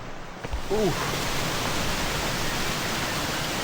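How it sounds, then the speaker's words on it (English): A waterfall on a remote hiking and camping route gives off a steady, dense roar that holds at the same level throughout, with a brief voice exclamation near the start. "At the waterfall."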